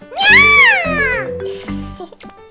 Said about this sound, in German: Das ist doch die Katze von vorher.